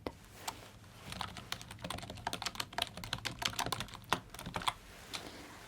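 Rapid typing on a computer keyboard, close and crisp, with irregular bursts of key clicks and a louder keystroke now and then, heard alone in a quiet room.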